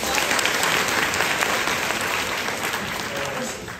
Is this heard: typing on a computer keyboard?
no